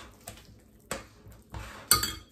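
Eggs are cracked one after another against a bowl of red velvet cupcake batter, giving four sharp, close taps and clinks spaced through a quiet kitchen, each followed by a faint wet squish.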